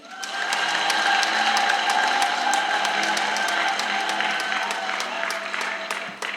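Sustained, dense applause from a church congregation gathered for a parish priest's installation, loud and steady throughout and tapering slightly at the end.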